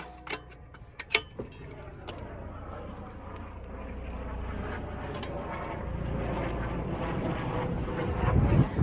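A medevac aircraft passes overhead outdoors at a farm field during spring planting, its steady engine drone swelling louder over several seconds as it approaches, with a few sharp clicks of hand tools near the start.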